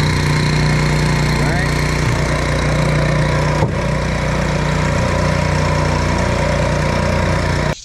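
A brand-new 4 hp four-stroke outboard motor runs steadily, a loud, close, even engine drone with a brief knock midway before it cuts off at the end.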